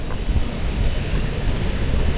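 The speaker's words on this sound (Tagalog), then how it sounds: "Umiihip ang hangin, girl." Wind gusts across a microphone on a Tokyo street in December, a steady, loud low rumble and roar filling the whole clip with no voices.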